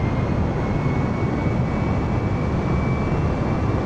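Airbus A320neo rolling on the runway in Microsoft Flight Simulator 2020, a loud steady jet engine roar with a faint whine, continuous and unchanging throughout.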